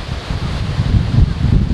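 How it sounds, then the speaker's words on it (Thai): Strong wind at Hua Hin beach on New Year's Eve, a steady loud roaring gust buffeting the microphone with low rumbling surges and no voices. "โอ้ลมแรงเห็นไหมครับลมแรงมากเลย"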